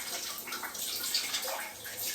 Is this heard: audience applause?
no